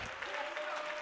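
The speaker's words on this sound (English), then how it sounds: "Clap your hands and praise" A brief burst of hands clapping together, a church congregation applauding with voices mixed in.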